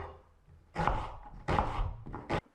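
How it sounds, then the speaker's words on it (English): A knife chops celery on a cutting board for minestrone soup, making three separate solid thunks spaced roughly evenly, each with a short crisp crunch, close by and with no talk. "And we'll chop up this celery."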